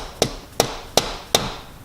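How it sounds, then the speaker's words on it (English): Four evenly spaced hammer blows strike the end of a screwdriver to knock out a part while replacing the ECU on a MK4 Jetta, each a sharp metallic crack, close and loud with brief ringing. "Beat it in with a hammer."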